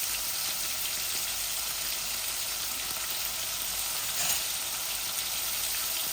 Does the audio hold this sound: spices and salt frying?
yes